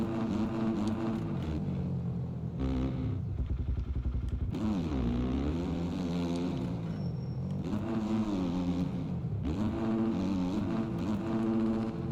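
A new Triumph motorcycle engine roars and revs continuously while riding, pitch swooping up and down with throttle and gear changes, loud and close throughout with no voices.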